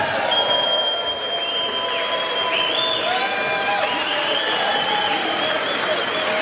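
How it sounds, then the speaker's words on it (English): House members cheering and applauding in the chamber right after a tax bill passes, a steady dense roar of clapping and voices filling the whole stretch, with some louder whoops rising above the crowd. "They're cheering."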